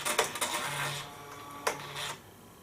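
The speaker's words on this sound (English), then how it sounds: "The printer will initialize." A CMC 6 receipt printer initializes after being installed, giving a close run of quick mechanical clicks and a whirring carriage motor, a short pause, then another clack and buzzing pass before it falls quiet.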